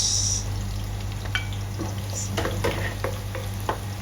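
Garlic frying in a pan while a chicken humba dish is cooked, a soft steady sizzle with a few light clicks and scrapes of stirring, close and fairly quiet, with no talk.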